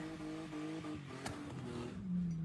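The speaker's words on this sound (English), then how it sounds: "one of their drivers doing a burnout outside her Mudgeeraba office overnight" A car doing a burnout outside an office at night, its engine revving and rising in pitch under a continuous harsh tyre noise, fairly close and loud.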